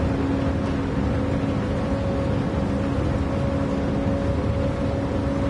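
Car engine held at full throttle in the video game Gran Turismo 7, a loud, steady, droning tone holding constant pitch throughout with no pauses.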